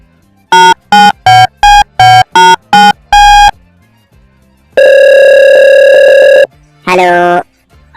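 A telephone tone sequence in a Bangla comedy cartoon: eight short sharp beeps, a pause, then one long steady tone and a brief falling tone, all loud and alone.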